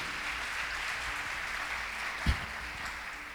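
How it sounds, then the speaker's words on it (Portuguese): Church congregation applauding during a service, a steady wash of clapping heard from some distance, fairly soft and even, with one sharp thump partway through. "aplauda ele poderosamente nessa noite"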